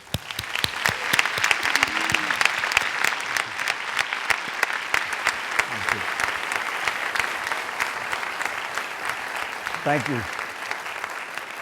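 A lecture audience welcomes a speaker with sustained, even clapping that fills the hall for several seconds, as a voice briefly offers thanks over it.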